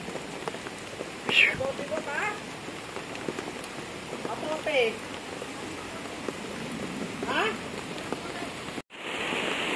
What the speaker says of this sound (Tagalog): Inaambon sa ulan kaysa sobrang init.